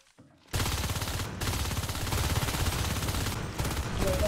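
Rapid, continuous automatic gunfire from Marines in the Natural Selection 2 video game, loud and dense, hammering almost without pause after a brief quiet start.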